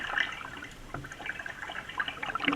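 Water from the current of the Weweantic River gurgles and trickles close by in a spring run, a steady babbling flow with small drips and splashes and no voices.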